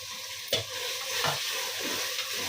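Tomatoes with mint and coriander frying in a pan for mutton biryani, a steady soft sizzle broken by a few scraping stirs of a spoon, close and without talk.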